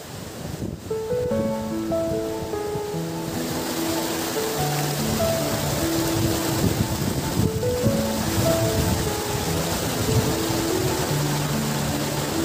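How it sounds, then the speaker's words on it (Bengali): A waterfall on a forested hiking trail with a footbridge and steps pours in a constant, full rushing hiss, steady and close, with faint melodic tones drifting over the flow. "ঝর্ণার জল যেন কথা বলছে"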